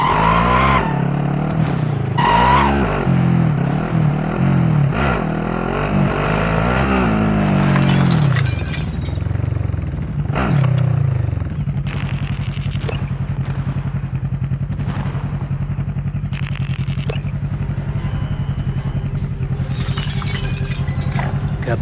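A vehicle is driven in the Call of Duty Warzone video game, its engine loud and close, revving with rising and falling pitch sweeps and occasional clatter before settling into a steady drone.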